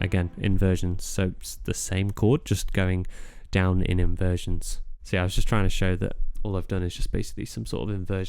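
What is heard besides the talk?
No distinct noise like a dog, phone or traffic.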